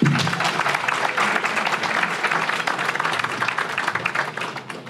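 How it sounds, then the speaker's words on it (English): A large audience at a live scientist interview event breaks into loud, sustained applause, a full and dense clatter of hands that holds strong for about five seconds with no speech over it. "Yes, round of applause for that."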